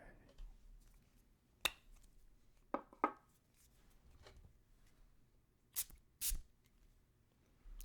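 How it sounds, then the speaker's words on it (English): Two quick, hissing pumps of a cologne atomizer sound close by, amid quiet clicks and faint handling noises. "But let's give it a spray."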